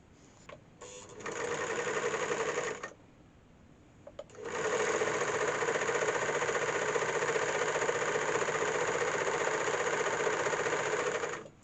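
A sewing machine stitches elastic into ski pants in two runs: a short burst of steady mechanical whirring, a brief pause, then a longer continuous run at an even, fast rhythm, close and fairly loud with no talking.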